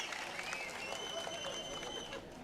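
Applause from an audience at a Tamil Nadu political protest rally, a steady crowded wash of clapping held at moderate level throughout, with some cheering mixed in.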